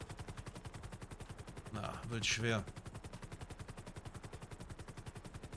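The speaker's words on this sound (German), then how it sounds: "Ja, die schießen." Rapid video-game gunfire from enemies on a roof rattles on continuously as fast repeating shots, and a brief spoken word cuts across it partway through.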